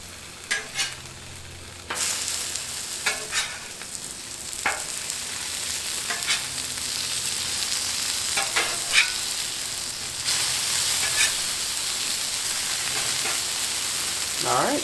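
Southern-style chicken pieces frying in oil on a Blackstone griddle give a steady crackling sizzle, broken by sharp clatters and scrapes as pieces are stirred and turned; no one speaks.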